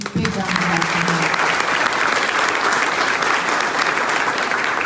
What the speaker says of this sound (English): So big round of applause for him.